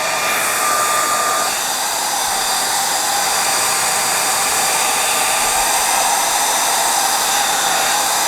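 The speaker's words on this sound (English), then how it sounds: "This is not a very good dryer." Continuous loud whoosh of a weak hair dryer drying gesso-covered journal pages, an unbroken near roar that holds level throughout without any voices.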